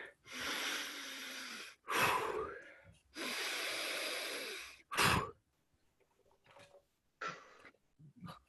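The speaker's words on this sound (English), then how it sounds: "Come on, deep breathing through the nose." Deep breaths drawn in and pushed out through the nose during a qigong exercise class, several long loud rushes of air, each a second or more, with short pauses between and fainter breaths near the end.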